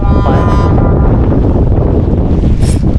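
Strong wind at sea during a squid-fishing boat trip off Samae San, with a storm coming in, roars and buffets loudly and constantly against the microphone. A faint tonal whine sounds briefly at the start, and no one talks.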